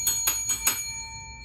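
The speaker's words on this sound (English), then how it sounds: "So today we've got our bell." A bell rings four times in quick, evenly spaced strikes, each bright tone ringing with a steady metallic shimmer, fairly close and clear with no voices.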